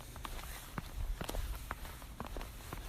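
Footsteps trudging along a slushy, partly plowed snowy road, a steady walking rhythm of soft wet crunches close by, with no talking.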